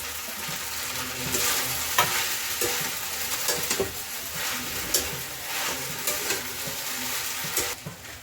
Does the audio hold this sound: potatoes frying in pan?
yes